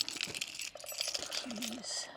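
Keys for a Kioti 3520 tractor jingle and clink softly in a brief, faint metallic rattle with light handling noise, close by and quiet.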